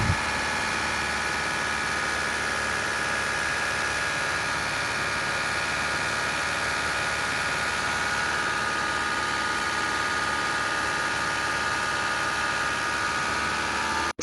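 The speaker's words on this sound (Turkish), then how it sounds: "Yaklaşık bir 10-15 dakika bu şekilde yüksek devirde tutacağız." An Audi A5 with the 2.0 TFSI engine is held at high revs during break-in. It gives a steady, unbroken drone that stays close and constant throughout, with no voices.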